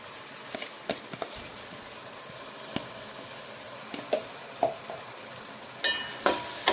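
Goat fat and mutton curry with garam masala cooks in oil, giving a soft continuous sizzle with scattered stirring scrapes and clicks that grow more frequent toward the end, fairly close and without talk.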